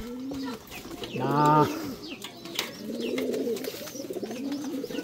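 Breeding pigeons cooing close by, a rising throaty coo followed by softer repeated coos, with a voice speaking briefly alongside.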